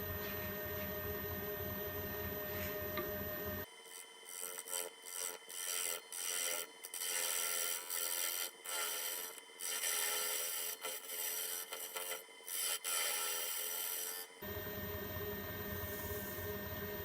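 Flat square carbide cutter plunging into a small spalted walnut bowl on a lathe, a harsh scraping cut in close, uneven bursts over a steady machine hum, with no talk.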